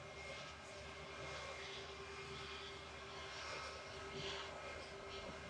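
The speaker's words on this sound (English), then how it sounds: "So we've got Turkish Airlines taxiing out." A Turkish Airlines Airbus A321 taxis out at Manchester Airport, its jet engines giving a steady, continuous roar with a faint whine on top, fairly loud and unbroken throughout.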